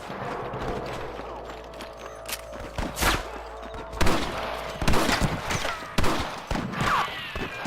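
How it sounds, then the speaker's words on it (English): Gunfire in the Red Dead Redemption video game, a scattered fusillade of shots cracking over a busy mix of action noise and music, with several sharper blasts in the second half. "More gunshots."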